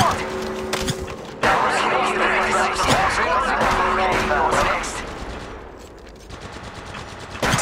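Gunfire in the video game Apex Legends, heavy bursts of automatic shooting and sharp cracks that carry loud and steady through most of the stretch before easing off, with voices talking over it.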